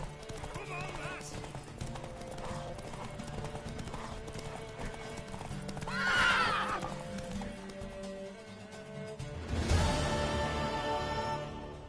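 A mare's hooves clip-clop steadily while she neighs loudly partway through, with people talking and shouting throughout.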